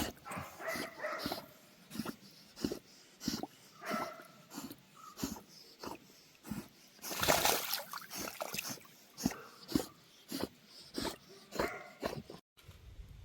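A dog swims in water, heard as a rhythmic series of close, breathy splashes and pants about twice a second, steady throughout with a louder burst in the middle.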